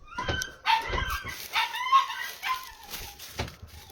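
A dog barks and yips in short, repeated bursts at close range, with some whimpering between calls, over a busy outdoor background on a family farm.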